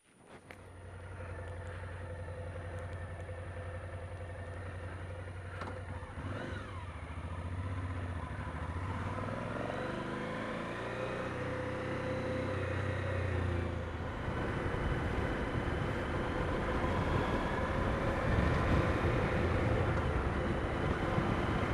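A motorcycle pulls away and rides off along a road at the North Rim of the Grand Canyon, its engine note steady and climbing as it gathers speed, loud and continuous with wind rush building over the run.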